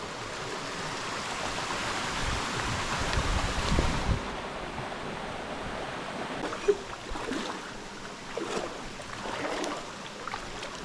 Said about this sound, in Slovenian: Prišli do potoka Doblarec